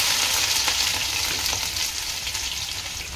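Garlic-ginger paste with bay leaves sizzles steadily in hot oil, a loud continuous frying hiss with faint stirring clicks, close and alone with no talk.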